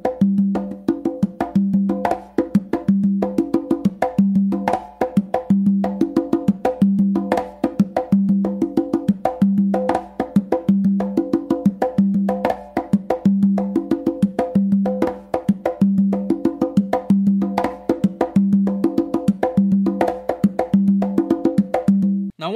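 Congas play a full bomba pattern for over twenty seconds, a steady, dense groove of close hand strokes. Ringing open tones mix with slaps and muted touches in a repeating cycle, with no voices.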